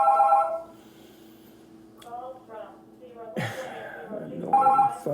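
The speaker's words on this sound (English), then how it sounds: "annoying phone." A telephone rings with bursts of bright electronic trills, one at the start and another near the end, cutting across a voice talking over it.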